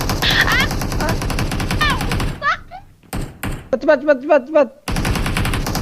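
Rapid gunfire from a multiplayer shooting video game rattles in loud bursts, mixed with thuds and game effects, while players talk excitedly over it.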